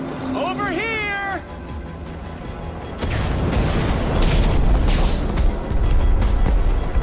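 Fireworks launched in the Minecraft: Story Mode video game, a rumbling, crackling whoosh and bursts rising under game music after a short cat-like meowing, loud and continuous toward the end.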